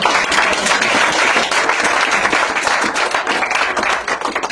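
A church congregation claps and cheers, dense continuous applause with a crowd roar, loud and close for several seconds, no clear talking above it.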